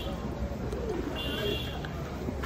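A male red Lahori pigeon of imported bloodline cooing in low, soft calls amid a noisy background of other birds and faint chirps.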